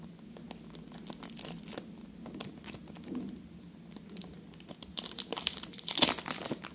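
A candy wrapper with a peel-off sticker crinkles and crackles in close, soft bursts, growing busier and sharper toward the end as the packaging is worked open.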